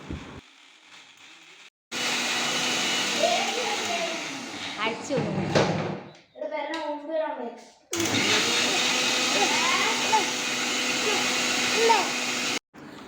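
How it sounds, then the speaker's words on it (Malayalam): A blender whirs loudly while making cucumber juice, running steadily for several seconds, pausing briefly amid softer clatter, then starting up again at full power before cutting off. "ഓള് ജ്യൂസ് അടിച്ചുകൊണ്ടിരിക്കുകയാണ്"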